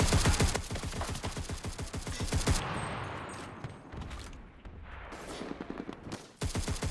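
Rapid automatic gunfire in the World War II shooter game Enlisted, a dense burst of loud rhythmic shots followed by scattered single cracks and echoing reports, with another short burst at the end.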